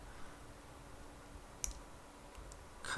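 Sharp snips as a plastic part of an MG 1/100 GN-X Gundam model kit is cut off the sprue: a single crisp click near the middle and another at the end, over a quiet room.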